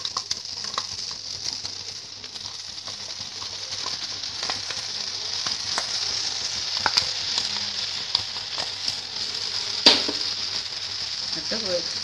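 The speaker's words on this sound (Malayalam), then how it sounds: "അതിനുശേഷം നമ്മൾ നേരത്തെ തേങ്ങാപ്പാൽ അരച്ച് വെച്ചേക്കുന്ന അരപ്പ് അതിലേക്ക് ഇട്ട് കൊടുക്കുക." Ground coconut paste goes into a pan of drumstick leaf thoran. A soft, steady sizzle runs throughout, with light scraping and stirring taps and one sharper clink near the end.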